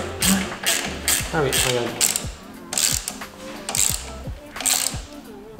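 A ratchet wrench works the fork axle of a Honda motorcycle with inverted forks, giving repeated bursts of loud, close, rapid pawl clicking in an uneven rhythm. Someone speaks briefly in French.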